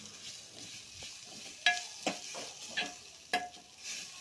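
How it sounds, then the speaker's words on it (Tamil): Ground paste for pepper rasam is sautéed in oil. A soft, low sizzle runs under several sharp scrapes and clinks of a spoon against the pan, quiet and close, with no talking. "அந்த பச்சை வாசனை போகிற வரை அந்த எண்ணெயில் நல்லா வதக்கிக்கோங்க."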